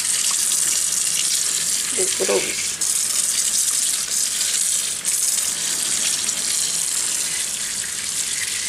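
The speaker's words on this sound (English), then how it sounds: "So that is the way how I wash my vine leaves." Vine leaves being washed under a running kitchen tap, with a steady, close rush of water pouring continuously and a brief spoken word partway through.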